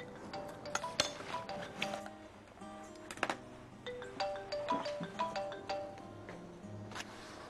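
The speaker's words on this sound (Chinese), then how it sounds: "电话响了。" A mobile phone rings indoors with a repeating electronic melody of bright tones, fairly quiet, mixed with a few light clinks of dishes at a meal and no clear talk.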